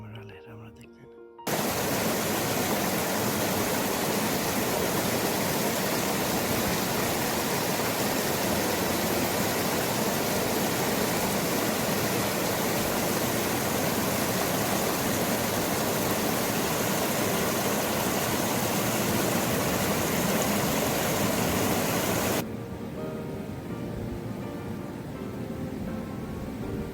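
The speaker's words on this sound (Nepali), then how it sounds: "झरनाको आवाज कानमा गुन्जिरहेको थियो" A waterfall roars beside a hiking trail near Naurikot below Mt. Dhaulagiri, a loud, unbroken wash of rushing water that starts abruptly and holds steady before dropping to a quieter level near the end.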